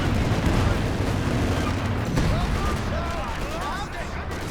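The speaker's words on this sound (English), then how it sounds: "Big grenade." Grenade blast in the WWII strategy game Company of Heroes 2, a broad rumbling boom that sits under steady battle noise and other distant explosions, with a commentator talking over it.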